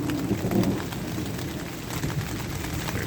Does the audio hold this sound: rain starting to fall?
yes